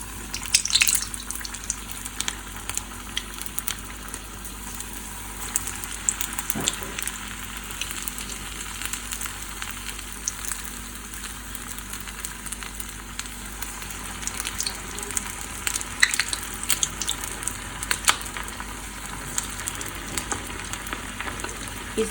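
Batter-dipped chicken tempura strips frying in hot oil in a kadhai, a steady close sizzle with crackling pops running throughout, no talking.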